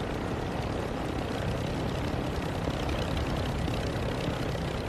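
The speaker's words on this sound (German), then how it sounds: "Vor uns ist irgendwas. Ach, ein Helikopter, der stürzt ab." A crashing helicopter in the video game Warzone produces a steady, dense roar of rotor and engine noise that holds loud and unbroken throughout, with no talking over it.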